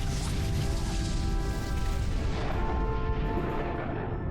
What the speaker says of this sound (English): igniting its explosive stores, causing it to explode and sink